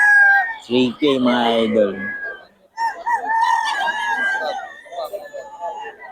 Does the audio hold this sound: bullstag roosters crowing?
yes